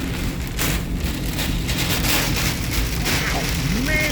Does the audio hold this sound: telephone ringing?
no